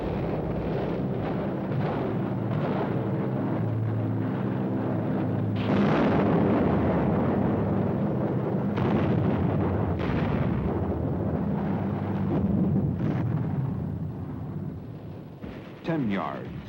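Wartime beach landing with troops wading ashore under small arms fire, a dense continuous roar of battle with booming explosions and rumbling blasts, loud and sustained, fading slightly near the end.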